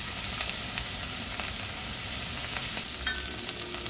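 Talangka crabs frying with bagoong in a pan, a dense steady sizzle with faint pops and occasional stirring scrapes, close and continuous.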